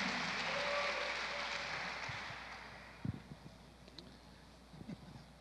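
A church congregation applauds for two pastors, a broad wash of clapping that starts loud and slowly fades away, followed by a few scattered thumps.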